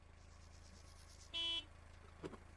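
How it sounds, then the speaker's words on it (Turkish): A car horn gives one short honk in the Gas Station Simulator video game, rising briefly above a quiet, steady low hum. "Bir dur, bir dur, çalma korna,"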